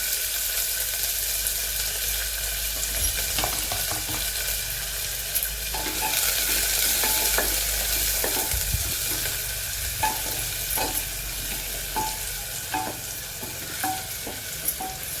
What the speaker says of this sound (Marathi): आता आपण हा कांदा घालत आहोत बारीक चिरून घेतलेला आहे कांदा